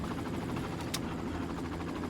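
An enemy helicopter in the Far Cry video game produces a steady droning rotor hum that fills the whole moment at moderate level, broken by one brief sharp click.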